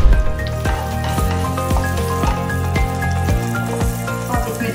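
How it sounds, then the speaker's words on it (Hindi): Butter with cinnamon, bay leaf, black and green cardamom, black pepper and cloves sizzles loudly in a hot pan, a steady crackling fry punctuated by sharp clinks and taps of utensils. "पैन है जो मैंने गर्म करके रख दिया है, उसके अंदर मुझे डालना है बटर"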